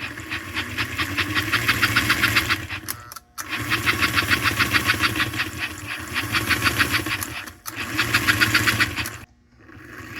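A 1951 American Flyer 302 Atlantic AC toy steam locomotive runs on a rolling road test stand, giving a loud, rapid rhythmic chuffing and mechanical clatter in several long bursts separated by brief pauses.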